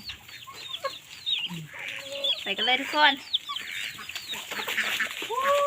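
Chickens cluck and chatter nearby in a busy, overlapping flurry, with a person speaking briefly over them.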